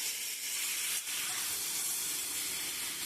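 Boiled jackfruit tipped into a pan of long-fried spice masala for an egg curry, giving a steady close broadband sizzle and hiss throughout, with a brief dip near the one-second mark.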